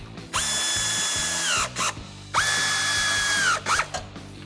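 Power tool driving bracket bolts on Jeep Wrangler JL side step bars, two long close whirring runs that wind down at the end, each followed by short bursts, with no talk.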